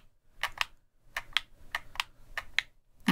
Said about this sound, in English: You can hear the distinctive click-clack of the Xbox controller.